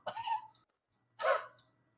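A voice imitating an old man's cough, giving two rough, raspy coughs about a second apart, close and fairly quiet, with silence between them.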